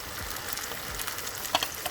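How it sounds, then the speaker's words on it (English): Chicken gizzards frying in hot oil in a pot, a steady soft sizzle with faint crackles and a couple of sharper pops near the end, no voices. "I put my gizzards in here to fry a little bit"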